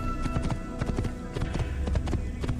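Horse hooves in the Assassin's Creed video game clip-clop in a steady, close walking rhythm, a continuous run of soft thuds with no talking.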